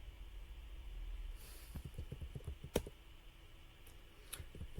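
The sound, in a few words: typing a debugger command on a computer keyboard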